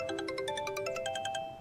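A mobile phone rings with a bright melodic ringtone, a quick run of chiming electronic notes lasting under two seconds, loud and close with no talking.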